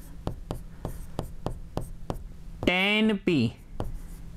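Pen strokes scratch across paper in a steady series of short, evenly spaced taps and scrapes during a maths lesson, with a voice speaking briefly over them partway through.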